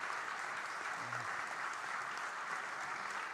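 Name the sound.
audience applause after a panel discussion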